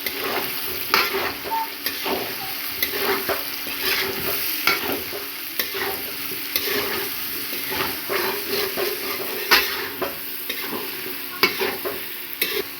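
Beef, potatoes and onions frying in oil while being stirred for biryani, a steady close crackle broken by repeated scraping strokes of a spoon in the pan throughout.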